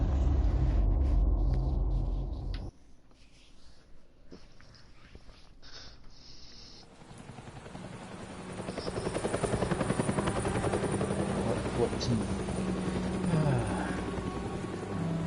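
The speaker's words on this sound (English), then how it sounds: "And there's a helicopter." A helicopter's steady rotor whir and engine rumble in the game Telltale Batman Season 1 fill the scene alongside game-like effects, with brief voices heard over it.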